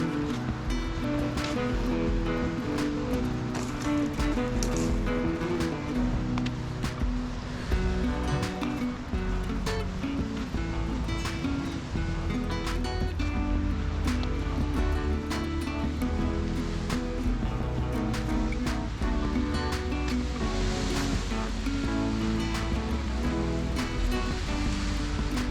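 Waves wash steadily onto the Lake Superior beach at Duluth on a clear day, a dense continuous surf hiss and rumble close by, with no voices.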